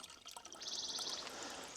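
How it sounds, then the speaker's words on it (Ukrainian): Clean water from a functioning old spring trickles and flows steadily, a soft continuous wash that holds at close range with no voices over it. "Вода тече, але, мабуть, зразу стікає кудись далі."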